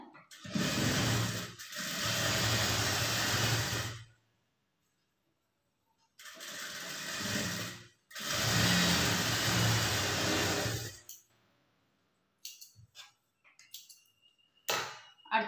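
A sewing machine stitches blouse fabric with a quarter-inch seam, running in two long whirring, clattering bursts separated by a pause, then ending in scattered light clicks and handling noises.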